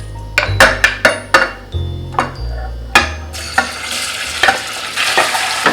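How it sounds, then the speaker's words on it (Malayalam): Marinated chicken added to a quarter cup of hot sunflower oil in a pressure cooker: a spoon clanks sharply against the metal pot several times, then a loud, steady sizzle takes over. "ഇതിലേക്ക് നമ്മൾ മാരിനേറ്റ് ചെയ്ത് വെച്ചിട്ടുള്ള ചിക്കൻ ചേർക്കാം."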